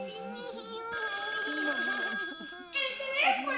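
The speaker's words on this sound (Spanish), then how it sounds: "¡El teléfono!" A telephone bell rings in bursts in a Peruvian comedy show, bright and metallic, with voices chattering underneath.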